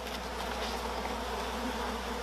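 Honey bees at an opened hive hum in a continuous, dense buzz that holds steady and close throughout, with no voices over it.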